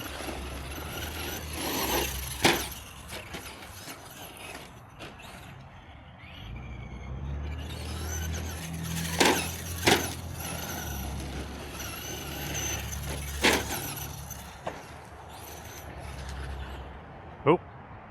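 Traxxas Slash 2WD XL-5 RC car driving on an outdoor track, its electric motor giving a fluctuating whine with scattered sharp bumps and knocks, heard fairly close for the whole stretch.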